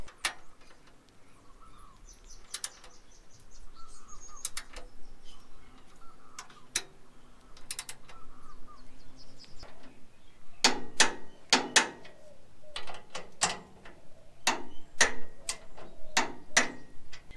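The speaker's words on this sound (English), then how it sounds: "I'll be using this torque wrench and be setting the torque accordingly for each of the fasteners" Torque wrench tightening M10 fasteners on an Isuzu D-Max during a recovery point installation: quiet ratcheting at first, then a series of sharp, loud clicks in irregular clusters toward the end.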